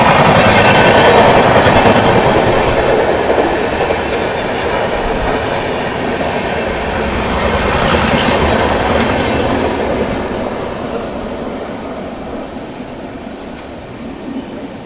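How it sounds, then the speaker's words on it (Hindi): The LTT Visakhapatnam Express overtakes on a parallel track in the Khandala Ghat between Mumbai and Pune, heard from an Intercity Express: a loud, continuous roar of wheels and rattling carriages with clickety-clack and faint squeals that ease slightly as it pulls ahead. "फाइनली आगे निकलते हुए हमसे LTT विशाखापट्टनम एक्सप्रेस।"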